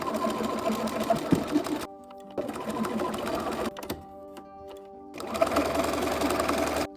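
A sewing machine stitches around fabric edges in loud, rapid whirring runs, stopping and restarting several times with short quiet gaps between bursts.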